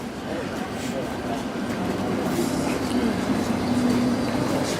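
Interior of a London Overground train heading to Romford, a continuous rumbling rail drone with steady wheel noise and a faint tonal hum, close and unbroken, with people talking faintly beneath.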